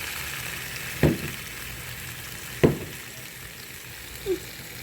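Chicken feet simmering in Sprite in a pan give a soft continuous bubbling sizzle, broken by a few sharp stirring clunks.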